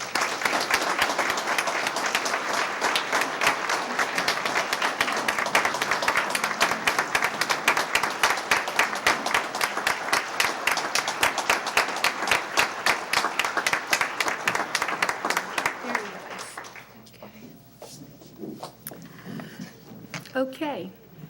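An awards ceremony crowd honoring volunteers applauds in a full, dense wave that holds steady for about sixteen seconds, then thins to scattered claps and dies down near the end.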